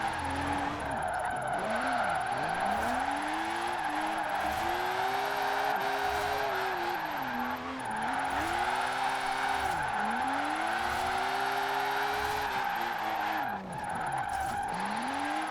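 A car drifting in the racing game Forza Horizon 4, with a continuous loud engine roar and long sweeping tire skids that rise and fall repeatedly as it slides through turns.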